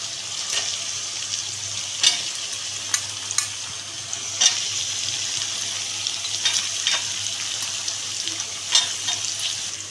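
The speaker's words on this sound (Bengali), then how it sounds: "দিয়ে এবার এটাকে আমি ভালো করে একটু ভেজে নিচ্ছি।" Carrot, capsicum and beans being stir-fried for chicken Hakka noodles, a steady sizzle with repeated scraping strokes of a spatula in the pan, close and clear with no talk.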